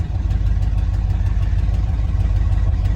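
Loud, steady exhaust rumble from a truck engine fed by a Holley 4-barrel carburetor, with vacuum lines ripped out, holding a constant heavy drone at idle throughout, close and alone.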